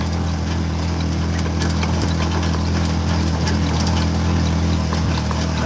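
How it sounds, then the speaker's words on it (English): A diesel motor with no exhaust or muffler runs on a farm, a loud, steady low-pitched drone with strong rumbling hum that never changes pace, alone without talk. "This diesel motor, there's no exhaust on it"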